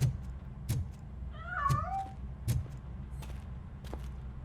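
Cat meowing in the video game RoboCop: Rogue City, a short rising and falling call in the middle over dull game ambience and several soft thuds, fairly close.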